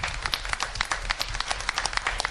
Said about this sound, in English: So I'd like everybody to stand for a round of applause.